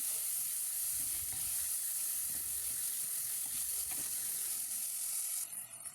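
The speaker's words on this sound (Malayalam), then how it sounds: "ഇനി ഇതിലേക്ക് അരിഞ്ഞു വെച്ച തക്കാളിയും കൂടി ചേർത്തി ഇതുപോലെ 2 മിനിറ്റ് നേരം കൂടി വഴറ്റിയെടുക്കണം" Onion and chopped tomato sautéing in a pan for a Kerala coconut fish curry, a steady close sizzle with bright steamy hiss and occasional stirring scrapes, no talk.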